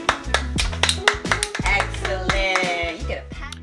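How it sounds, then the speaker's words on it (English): A two-year-old claps during a home learning activity with uppercase and lowercase letter cards, giving a quick string of sharp, close hand claps and taps, uneven in rhythm, with a little voice sound around them. "Give yourself a hand clap."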